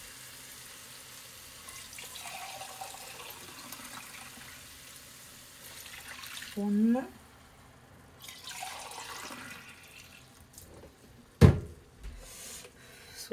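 Broth from boiling washed mutton is poured into a cooking pot for yakhni pulao, giving a couple of soft, splashy pours followed by a single sharp metallic clank near the end, with a voice speaking briefly.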